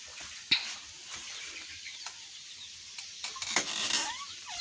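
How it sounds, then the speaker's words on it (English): Three-day-old chicks, a brood of thirteen hatched by their mother hen, give high thin peeps. The calls come close and scattered, with a few sharper bursts over a steady background hiss. "These are 3 days old chicks"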